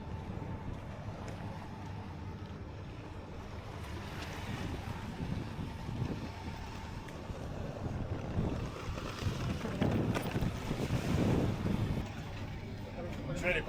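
A speedboat motors across water in the Maldives with a steady engine rumble, wind buffeting the microphone and water rushing, while voices talk faintly underneath.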